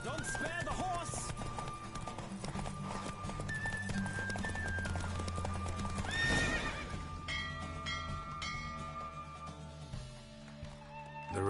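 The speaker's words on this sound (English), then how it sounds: "Don't spare the horse!" Horse neighing and whinnying with hoof clip-clop during a race in The Witcher 3, loud and continuous over a busy game soundtrack, with a bright whinny near the middle.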